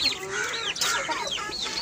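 Several backyard hens cluck and chatter close by in a continuous, busy flock sound, with overlapping calls and no talking.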